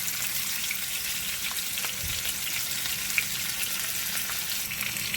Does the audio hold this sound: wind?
no